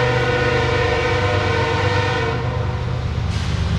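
A train passes near a residential street bordering the tracks and a highway, its horn blaring in a long, loud, sustained blast over the rumble of the rail cars.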